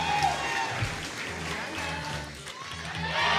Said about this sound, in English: And the crowd behind her, so no doubt they'll root with her until the final rep is complete.